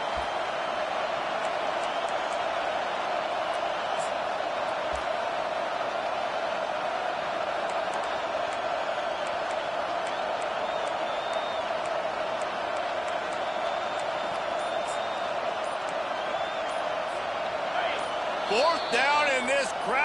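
Stadium crowd at a football game, a constant loud roar of many voices with a sports commentator talking over it and brief whistles and cheers near the end.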